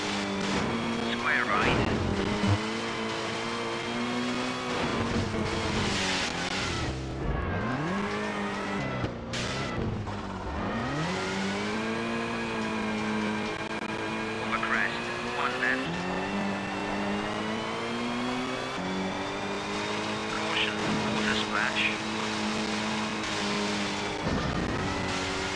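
Engine of a car in a racing video game revs and swoops continuously, its pitch climbing and dropping through gear changes, with brief tire squeals and several sharp dips where the motor cuts back before surging again.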